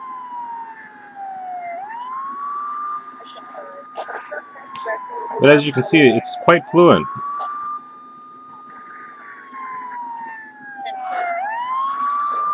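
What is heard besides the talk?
police car siren in a driving video game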